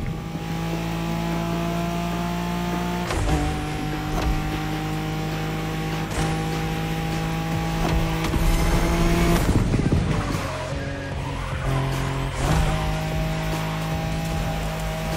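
A Nissan Skyline races in The Crew Motorfest, its engine holding steady loud tones that drop sharply at each gear shift, with rising revs and tire squeals over a continuous close roar.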